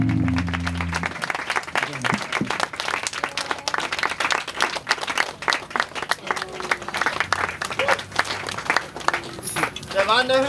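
A crowd at a spring outdoor music festival applauds after a band's set, with dense sustained clapping and some cheering, while a host speaks over it on a microphone.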